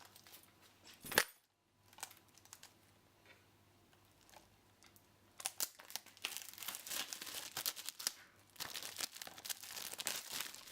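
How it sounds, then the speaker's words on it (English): Plastic wrapper on a Need For Speed Most Wanted game box crinkles and tears in short bursts, with a sharp snap early on, then dense, close rustling that swells and continues steadily toward the end. "Just find something sharp. Opening up the box."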